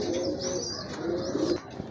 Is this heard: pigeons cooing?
yes